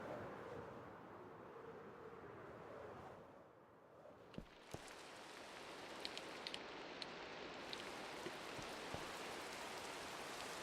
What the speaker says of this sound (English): I don't want to hear the rain anymore.